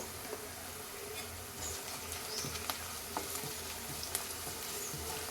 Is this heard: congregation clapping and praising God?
no